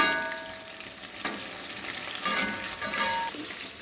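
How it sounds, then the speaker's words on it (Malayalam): Chicken fries in a pan with a steady crackling sizzle and occasional spatters, heard close up and moderately quiet, with no voices. "ചിക്കൻ അങ്ങോട്ട് ഫ്രൈ ചെയ്യാനിട്ട് എന്താ അടിപൊളി മണം"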